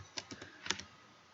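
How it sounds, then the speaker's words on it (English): An address being typed on a computer keyboard, several quick, close keystrokes in an uneven burst, with a quiet pause afterward and no speech. "let's say we type in a new address here"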